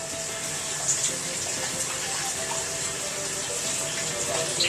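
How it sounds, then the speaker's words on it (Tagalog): Coconut milk poured into a cooking pot of ginataang suso (snails) with malunggay leaves and chili, giving a steady, close, continuous liquid gush and trickle. "ilalagay na natin yung gata"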